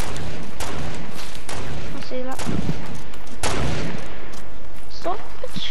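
Gunfire in the video game Fortnite: sharp, loud shots crack out irregularly across a dense, noisy battle soundscape, with scattered impacts and a couple of brief tonal effects between them.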